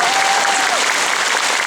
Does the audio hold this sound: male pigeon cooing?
no